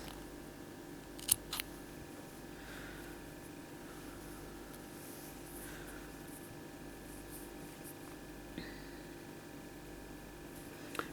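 Scissors snip through crochet yarn on a newborn granny-stitch slipper, giving a couple of quick, close, sharp cuts early on and a few softer clicks later over a quiet room hum.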